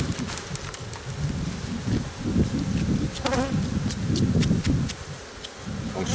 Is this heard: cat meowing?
no